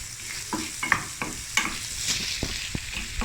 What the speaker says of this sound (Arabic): ها زيت الزينه تشحر وتحتبط